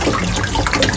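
Water splashes and runs steadily over mutton bones being rinsed, a close, continuous wet rushing with no talking.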